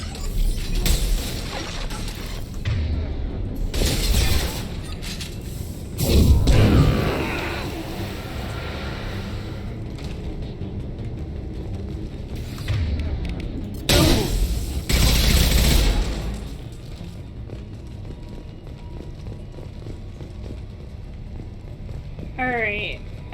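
Shotgun and weapon fire in the Mass Effect Legendary Edition video game, several loud sharp blasts scattered among mechanical clanks and game effects, with a player talking over parts of it.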